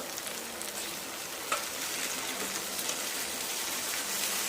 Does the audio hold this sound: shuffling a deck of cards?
no